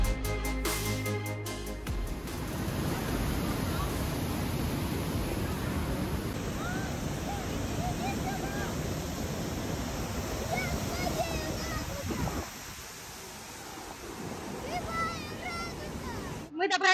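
The roar of Iguazu Falls on the Brazil–Argentina border: a dense, steady rush of falling water heard close and loud, briefly dipping near the end, with people talking faintly beneath it.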